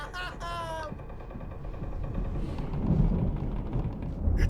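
Thunder rumbling under a heavy rainstorm in the video game Alan Wake Remastered, a low rolling roar building in the second half, preceded by a brief vocal sound at the start.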